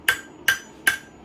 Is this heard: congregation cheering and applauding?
no